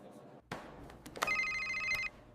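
A telephone rings in a sharp burst of tonal electronic trilling lasting under a second after a few soft knocks and rustles, standing alone without talk.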